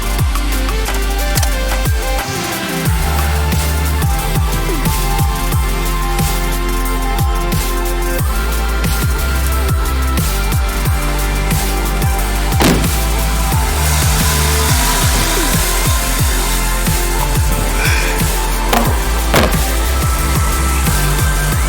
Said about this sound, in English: I'm gonna start it to make sure it circulates around the engine.